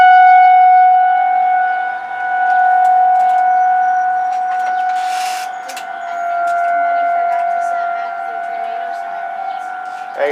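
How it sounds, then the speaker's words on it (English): Outdoor tornado civil defense sirens wail steadily in Indianapolis, a sustained tone swelling and fading slightly as the sirens rotate, loud and continuous throughout. "I think the sirens are working, don't you?"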